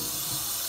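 Steam hissing from water heating in a pot while cooking mac and cheese, a steady broad hiss that stays loud and even throughout with no talk.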